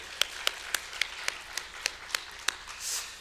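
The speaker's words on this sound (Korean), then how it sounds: "우리 같이 감사의 박수 올리도록 하겠습니다" Church congregation clapping during a Korean Sunday worship service, heard as a quiet, evenly spaced run of about nine sharp claps in a steady rhythm, fairly distant in a reverberant hall.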